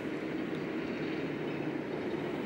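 A train climbs the steep rack-free mountain line toward Appenzell, a steady close rumble of wheels and carriages rolling continuously with no voices.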